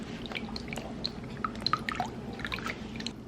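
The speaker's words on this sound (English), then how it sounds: "let's make this heavy whipping cream. I'm gonna pour this." Heavy whipping cream poured into a bowl for a Filipino fruit salad, heard as soft liquid drips and gurgling splashes in quick irregular bursts, close up and fairly quiet, with no talking.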